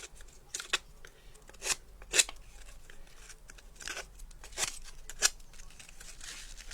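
Scissors cut out paper pieces for a tunnel book box craft, giving close, crisp snips spaced irregularly over soft paper rustling.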